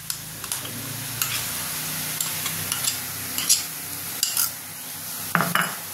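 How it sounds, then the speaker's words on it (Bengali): A spatula stirs lentil paste into a sizzling pan mixture for a Bengali prawn and lentil-cake curry, making close scraping strokes and light clicks against the pan over a soft frying hiss. "এবার আমি দেবো একটু নেড়ে, তারপর আমি ডাল বাটাটা দেবো।"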